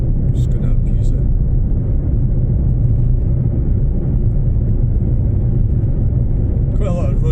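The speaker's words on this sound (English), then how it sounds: "Quite a lot of road noise in this car, isn't it?" Steady low tyre roar and road rumble fill the cabin of a moving Fiat Panda on a day trip, loud and continuous throughout, with brief faint higher noises near the start and end.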